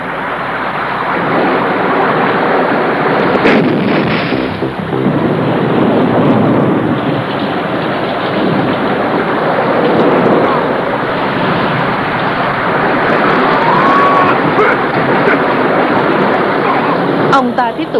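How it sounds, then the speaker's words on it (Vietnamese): A stormy scene in a Hong Kong martial arts comedy film, with a continuous roar of wind and heavy rain and rumbling thunder swelling throughout, loud and dense with no pause. "Sấm chớp bắt đầu nổi lên"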